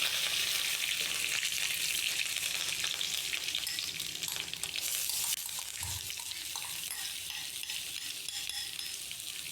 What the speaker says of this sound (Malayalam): ഇനി ഇതിലേക്ക് കട്ട് ചെയ്ത് വെച്ചേക്കുന്ന ഒരു മീഡിയം സൈസ് സവാള ഇട്ട് കൊടുക്കാം